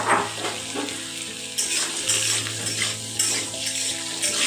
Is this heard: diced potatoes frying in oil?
yes